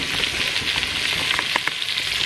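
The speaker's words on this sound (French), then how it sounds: "j'ai mis les paupiètes à revenir là. Avec les oignons du coup, je les fais revenir" Paupiettes brown with onions in a pan, giving a loud, close, steady sizzle with occasional crackles and a few soft stirring taps, and no voices.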